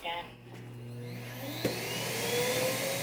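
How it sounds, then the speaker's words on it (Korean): A Narwal Freo Z10 Ultra robot vacuum station empties dust from the robot, spinning up into a loud, steady suction whine that builds and holds, with a person talking over it. "청소 전에 항상 집진을 해서 로봇 청소기 내의 먼지를 비우고 스테이션으로 빨아들여 줍니다"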